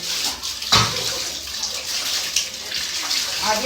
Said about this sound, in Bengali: রনি স্নান করছে প্রায় দু তিন মাস বাদ